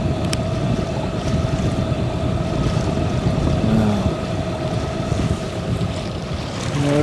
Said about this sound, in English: Motoring through the fjords of Greenland at 9 in the morning